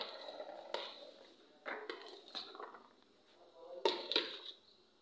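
A spoon clinks and scrapes against a bowl as red chili is stirred into yogurt, faint scattered taps and scrapes in an irregular rhythm with a couple of louder knocks near the end.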